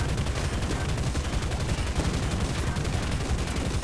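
Continuous rapid machine gun fire in the War Thunder video game, a dense unbroken rattle of shots held at a steady loudness throughout with no voices over it.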